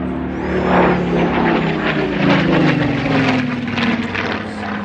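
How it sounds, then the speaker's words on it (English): A Griffon-engined propeller warbird of the Battle of Britain Memorial Flight flying a display at an air festival: a loud, rich engine drone that swells and shifts in pitch as the aircraft passes overhead. "This particular machine was one of those aircraft that actually started off what is now the Battle of Britain Memorial Flight."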